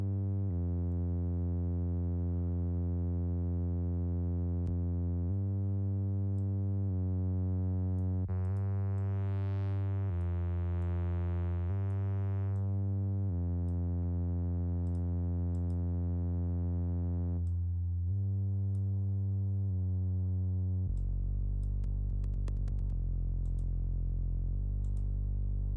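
Dubstep synthesizer instrument track with added distortion plays a sustained, buzzing, harmonically rich tone that shifts pitch in held steps, with a brief rising sweep partway through and a deeper, grittier low note near the end.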